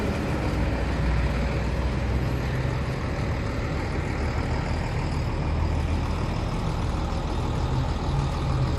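A bus engine drones steadily throughout a ride, a continuous low rumble with road noise and no breaks.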